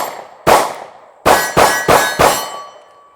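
Taurus Millennium G2 .40 caliber pistol firing five loud, sharp, close shots outdoors, with a single shot followed by a quick string of four evenly spaced reports, each with a short ringing decay.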